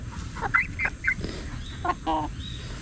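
Chickens cluck in short, scattered bursts nearby, a few quick calls rising over a low outdoor background with no talking.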